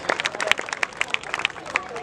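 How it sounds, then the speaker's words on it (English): An audience claps for an honored guest called up on stage at the Rustomjee MDFA Yuva President League football event in Mumbai, giving brisk, scattered applause mixed with crowd murmur and nearby voices. "Can we have a loud round of applause for our honorable guest?"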